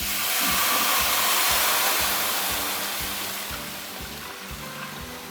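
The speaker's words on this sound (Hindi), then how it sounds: "तो अब इसमें नीम गर्म दूध शामिल करेंगे" Lukewarm milk pouring into a pan of fried vermicelli for sheer khurma, a loud steady hissing rush that swells and then eases as the stream continues, with no talk.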